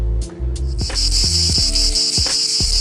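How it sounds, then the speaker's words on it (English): A loud, steady high-pitched buzz of 17-year periodical cicadas drones continuously while lower sweeping tones pass underneath. "Recognize that sound? Well, they come every 17 years. They're loud, they're annoying"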